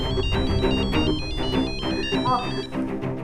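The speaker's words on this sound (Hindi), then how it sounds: "किसका फोन है?" Telephone ringtone chiming in a repeating melodic pattern at home, a bright electronic tone sounding continuously with voices around it.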